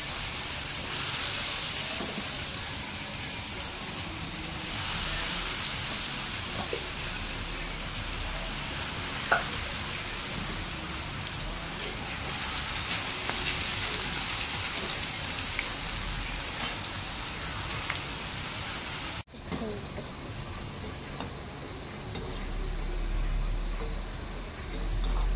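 Pakodi fry in hot oil, a steady dense hiss and crackle that stays constant and close throughout, with a brief dip near the end before the sizzle resumes.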